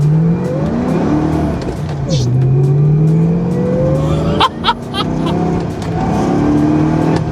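A 2006 Ford GT sports car accelerates hard through the gears, the engine note climbing and dropping with each shift, loud and close from inside the car, with a brief tire squeal and short bursts of sound near the middle.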